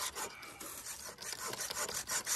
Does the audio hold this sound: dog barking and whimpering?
no